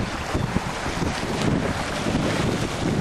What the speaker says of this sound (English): It's a little bit noisy. I won't say much because of the wind.